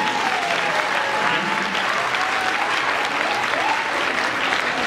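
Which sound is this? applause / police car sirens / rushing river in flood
applause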